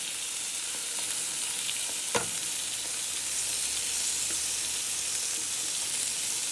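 Chicken wings sizzle on a grill in a steady, close, even hiss that runs throughout, with one soft clack partway through and no talking.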